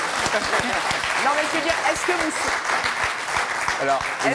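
A studio audience on a French television talk show applauds in a steady, dense wash of clapping, with a voice talking over it throughout.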